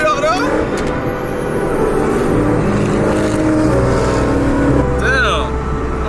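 A Ferrari engine revs loudly on the street, a droning growl that swells and climbs in pitch as it pulls away, close and continuous throughout.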